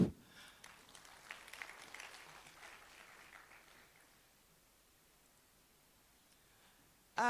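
Scattered applause from a small group at a conference, fading out after a few seconds into quiet room noise, with a sharp clatter at the very end.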